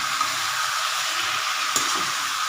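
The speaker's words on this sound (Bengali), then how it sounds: "এবার আমি আরেকবার নাড়বো" Chicken curry with tomatoes sizzles steadily in a pan, a constant close frying hiss broken by a soft scrape as it is stirred.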